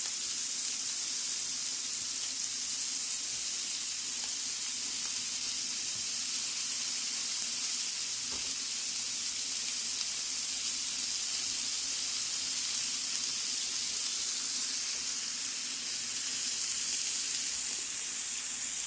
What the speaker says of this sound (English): And he's putting the steak on now.